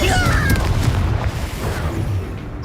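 A Confringo blasting spell bursts in the Hogwarts Legacy video game, a loud low booming blast that rumbles on for a couple of seconds amid dense combat noise.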